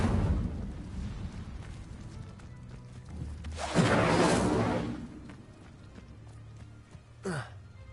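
Incendio fire spell cast in Hogwarts Legacy, a swelling whoosh of flame that rises near 3.7 s and holds for about a second before fading, set over a steady game soundscape, with a short rising magical swish near the end.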